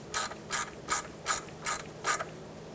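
A ratchet tightens spring seat bolts on a 2008-2010 Ford F-450 Super Duty, giving six crisp, evenly spaced bursts of clicking close up, with quiet gaps between strokes.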